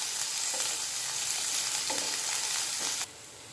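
Onion, garlic and green chili fry in a pan with a loud, steady hiss and crackle, a few stirring knocks, before the sizzle drops abruptly quieter near the end.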